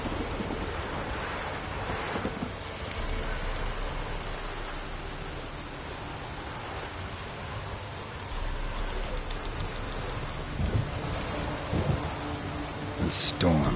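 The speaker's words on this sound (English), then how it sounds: "The storm, damn it." Thunderstorm with heavy rain in the video game Witcher 3, a steady hiss of rain on surfaces with rolling rumbles of thunder and a sharper crack near the end.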